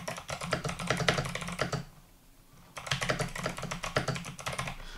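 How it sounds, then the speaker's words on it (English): Rapid clacking keystrokes on an 8BitDo C64 Edition mechanical keyboard, close and crisp, pausing briefly midway before resuming at the same brisk pace. "I wanted to demonstrate how the keyboard sounds."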